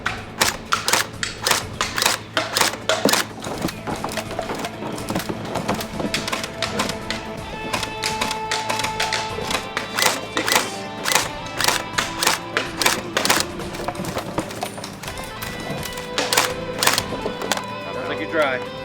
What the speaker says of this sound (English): John, load the mag into the gun.